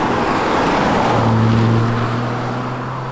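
A BMW Z1 roadster being driven past, a broad rushing road and engine noise with a steady low drone, fairly close and loud throughout.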